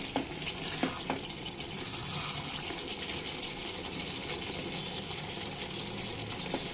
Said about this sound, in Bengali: এবার গ্রেভির জন্য গরম জল দেব।